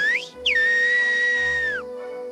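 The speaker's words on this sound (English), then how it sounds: "seeing whistling in action, travelling, communication," Two bright, piercing whistles of a Greek whistled language carry over a low steady hum, the first short and rising, the second a long held tone that bends down at the end.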